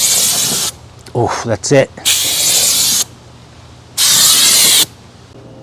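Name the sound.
spray coating a CUCV M1028 truck body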